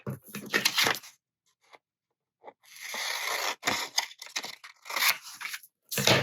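Scissors cutting paper for a handmade Christmas gift, close up on a cutting mat. Crisp snipping and slicing strokes come in several bursts separated by brief pauses.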